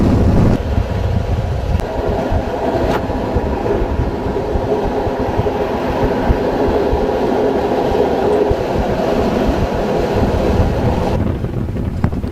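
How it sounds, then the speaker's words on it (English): Two steam locomotives double-heading a train through countryside run past with a steady, loud rumble of wheels and exhaust that continues without pause, mixed with wind noise on the microphone. "As I was standing looking at these two marvellous engines going by,"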